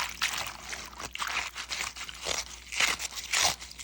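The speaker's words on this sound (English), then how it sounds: "For my ASMR folks, the other thing you're looking for is for your greens to be squeaky clean." Collard greens are rinsed and rubbed by hand in water, giving close, bursty squeaks, crunches and splashes in an uneven rhythm.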